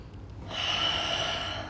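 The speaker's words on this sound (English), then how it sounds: "Taking another breath." Deep, steady breath drawn in during a pregnancy yoga session for the second trimester, a soft airy rush that swells after a quiet start and holds close and alone.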